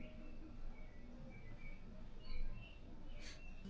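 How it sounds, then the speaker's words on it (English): Faint, scattered bird chirps in Armenia, Colombia, short high tweets spaced through a quiet room-tone background, with one brighter burst near the end. "I just heard the birds chirping."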